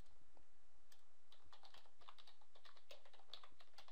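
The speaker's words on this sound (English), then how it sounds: "Let's go over here and type in" Typing on a computer keyboard while entering a web address: quiet, close, irregular key clicks in quick little runs over a soft background hiss, with no talking.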